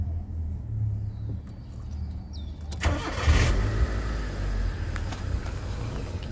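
A Proton Waja MMC with unstable idle speed is cranked and starts with a short burst, then settles into a steady, moderately loud idle rumble. Quiet faint ticks come before the start.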